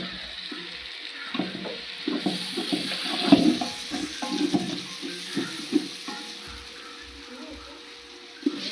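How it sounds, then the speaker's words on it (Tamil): Ginger and garlic fry and are stirred for biryani, a soft, steady sizzle broken by irregular scraping stir strokes, fairly close and quiet. "இஞ்சி போட்டு அழகாக கிண்டி கொடுக்குறாங்க."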